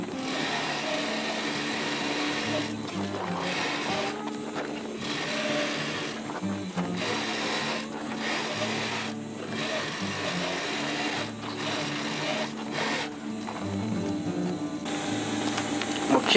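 A sewing machine stitching a DIY roll-up bag, running in a continuous mechanical whir with brief pauses and restarts, close and steady throughout.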